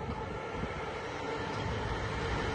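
A train rolls past at a distance, a faint steady rumble of rail cars with a constant low drone and no voices.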